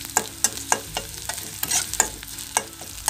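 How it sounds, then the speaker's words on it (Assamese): Fish pieces stirred and fried in an iron wok, with a steady sizzle under repeated sharp scraping strokes of a spatula roughly every third of a second, close and fairly loud, with no talking. "এতিয়া অকণমান ভাজি ল'ম"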